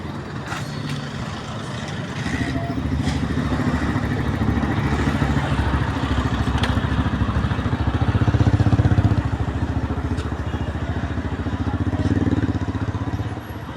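A motorized tricycle engine rumbles along a street on the way to a market, a loud, steady drone with rattling that swells toward the middle and eases off, with traffic clatter around it.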